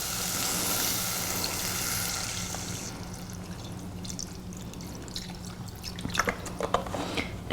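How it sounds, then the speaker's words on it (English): Broth poured into a pan of peanut butter sauce for a vegetarian Mexican dish, a soft liquid pour with dripping and light sizzling, quiet and close, with no talk. "I'm also going to add some broth,"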